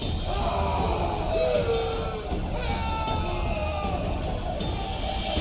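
Raging riot crowd in The Witcher 2, many voices bellowing and yelling together in a steady, dense roar that holds for the whole stretch with a few louder shouts rising out of it.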